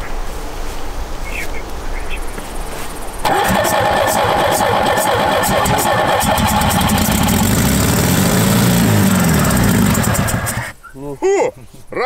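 A car engine left underground for a year catches and runs with a loud, rough, steady mechanical drone, then cuts out abruptly as people talk nearby.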